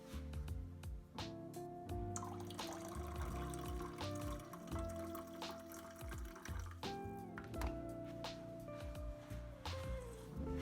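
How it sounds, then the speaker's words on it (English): French press coffee pours into a cup in a steady trickling stream, the pitch rising as the cup fills, close and fairly quiet with no one speaking. "Pour into a cup and enjoy."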